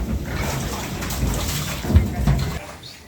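Water being poured into a pig pen to cool the pigs, a close splashing, sloshing gush with a few heavier splashes near the end.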